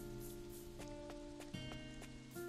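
A heavy rain downpour in the Doraemon video game rushes as a steady, dense wash, with game music tones and a few soft footstep-like thuds layered over the continuous patter.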